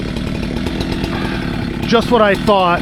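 A Husqvarna chainsaw cutting a huge fallen tree across a creek, its engine buzzing steadily and close, then revving in short rising bursts near the end while someone speaks briefly over it.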